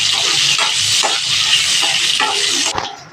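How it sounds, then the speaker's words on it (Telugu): Fish frying in hot oil for a Telugu drumstick and bommidi fish curry, a loud steady sizzle with stirring scrapes through the clip and a sharp drop near the end. "చేపలు వేసి ఫ్రై చేసుకొని పక్కన తీసేస్తాం."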